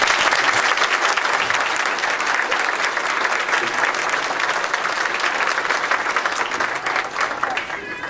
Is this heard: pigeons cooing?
no